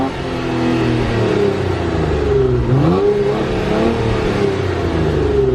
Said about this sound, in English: I'm gonna go around and get a sound clip from the rear.